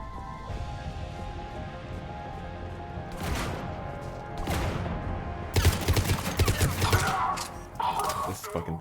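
Heavy gunfire from a weapon in Mass Effect 3 on Insanity difficulty: rapid bursts of shots crash out near and loud over game ambience, growing denser toward the end.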